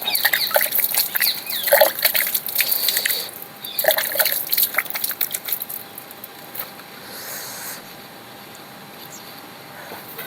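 Water is poured by hand over a soap-lathered surface while testing a soap, giving irregular splashing and dripping bursts that fade into quieter trickles and drips.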